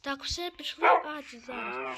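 A dog in the Minecraft video game gives a few short barks, mixed in with a person talking over it.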